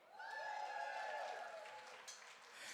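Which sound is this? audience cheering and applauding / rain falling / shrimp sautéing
audience cheering and applauding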